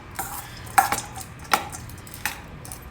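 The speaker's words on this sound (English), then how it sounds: "Mix all these ingredients well together." Roasted, coarsely crushed groundnuts being mixed with other ingredients in a bowl, giving a few sharp spoon clinks and soft scrapes spaced apart against a quiet background.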